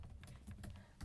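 Soft, quick keystrokes on a computer keyboard while a web address is entered into a browser search bar, a faint close-up patter of several taps in about a second.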